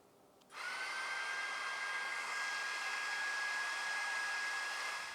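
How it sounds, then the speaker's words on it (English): A small vacuum motor on a model train track cleaning vehicle switches on and whines steadily at close range, a constant high-pitched hum with no voices. "You're also able to control this vacuum by turning it on and off with the function 1 button."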